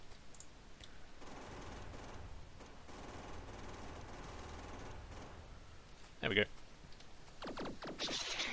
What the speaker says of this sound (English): laser turrets are pretty effective